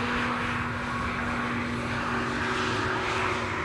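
Steady engine roar of an airliner arriving on Schiphol's Polderbaan runway 18R, a continuous even drone with a faint tonal hum, heard from a distance with no talk.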